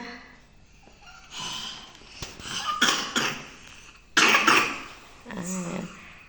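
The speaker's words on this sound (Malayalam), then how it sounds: "യക്ഷിക്ക് ചുമ വന്നിരിക്കുന്ന." Several harsh coughs burst out close by, uneven and spaced apart, mixed with throaty snorts and breaths.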